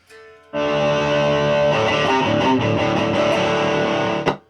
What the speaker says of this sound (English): you put the overdrive at full and then the volume at none to play at maximum distortion